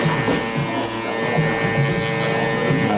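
An electric hair trimmer buzzing as it cuts a taper fade, a close, loud, steady electric hum with slight shifts in tone as the blade moves through hair, no talking.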